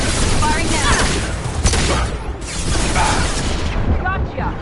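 Heavy gunfire and booming blasts in Mass Effect 2 combat, a continuous loud barrage of shots and impacts with voices shouting over it.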